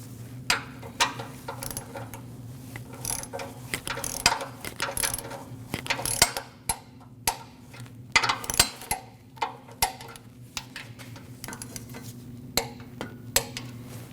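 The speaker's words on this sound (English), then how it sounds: "And you want to torque those at 14 foot-pounds." Torque wrench tightening knock sensor bolts on a 2.4L four-cylinder 2014-2023 Jeep Cherokee engine: repeated sharp ratcheting clicks in short bursts over a steady low hum, close up, with no talk.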